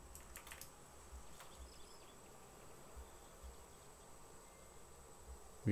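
Bees in the survival video game Raft make a soft, continuous buzzing drone, with a few faint clicks over it and a sharp louder sound at the very end.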